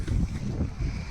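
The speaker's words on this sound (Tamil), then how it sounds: "இந்த இடம் அவ்வளோ காற்றடிக்குது" Strong wind gusts at a seaside harbour where large ships and boats are moored, a dense, blustery roar buffeting close to the microphone throughout.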